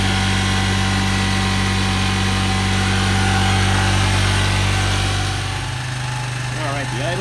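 A small engine idles steadily on its own, loud and close, running lean as the fuel runs low; near the end the idle note shifts and a voice briefly speaks over it.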